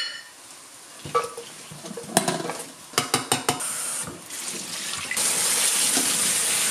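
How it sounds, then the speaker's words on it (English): Tap water runs over tinned kidney beans being rinsed, with a few sharp clinks and knocks of the tin and utensils partway through, then a steady strong stream of water near the end. "a tin of kidney beans, cheap as anything, but I need to rinse these first"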